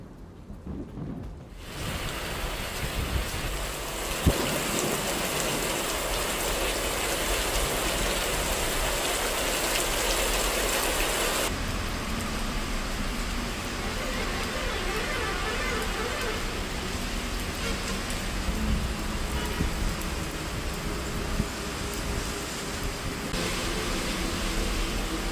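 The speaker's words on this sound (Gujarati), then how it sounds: "વરસાદ પડતા વાતાવરણમાં ઠંડક પ્રસરી ગઈ છે" Heavy monsoon rain pours steadily over countryside near Surat, Gujarat, a dense continuous hiss with rolling thunder underneath and no talk.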